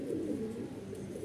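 A red-pied male pigeon of a Malwai Punjabi or Madrasi breed gives a low, continuous coo, close and steady, with no voices.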